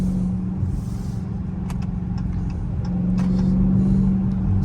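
Dodge Challenger or Charger Scat Pack or Hellcat V8 engine droning steadily at cruising speed, its note rising slightly near the end as a paddle-shift upshift approaches, heard from inside the car without talk.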